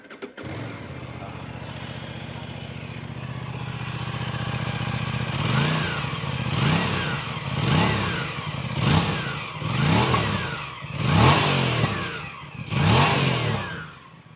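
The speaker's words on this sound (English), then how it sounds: "Now for the best part, how this motorcycle sounds." The 457 cc twin engine of an Aprilia Tuono 457 naked motorcycle starts and idles, then is revved in a series of repeated sharp blips, each rising and falling, loud and close.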